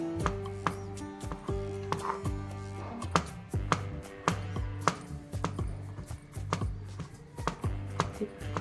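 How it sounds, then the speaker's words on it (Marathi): Raw prawns are finely minced with a knife on a board, giving rapid, rhythmic chopping strikes up close and fairly loud, continuing steadily with no talk. "अशी बारीक करून घ्यायची आपल्याला अशी कोलंबीचा पूर्ण खिमा करून घेतलेला आहे"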